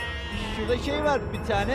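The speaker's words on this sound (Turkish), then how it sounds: "sustursana şu koyunları ya" Sheep bleat in wavering cries close by, overlapping with someone speaking.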